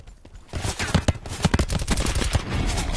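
Rapid gunfire in the Call of Duty Black Ops 4 video game, a dense run of loud, overlapping shots and impacts starting after a brief quiet lead-in and continuing without pause.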